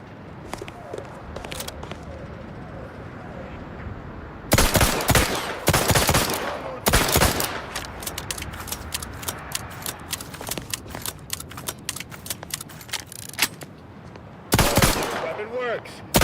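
Weapon test fire at a shooting range in The Outer Worlds 2, heard as loud repeated bursts of automatic gunfire between stretches of quieter ambience, with a final burst near the end.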